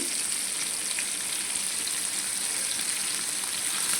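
Onion-chili fish frying in a little oil on a low flame, a dense, even sizzle that holds steady throughout with no voices.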